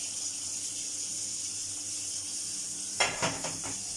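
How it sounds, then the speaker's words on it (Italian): Hot water poured into a cooking pan brings a short burst of sizzling near the end, a few quick hissing pulses rising over a steady background hiss. "Aggiungo un po' di acqua calda."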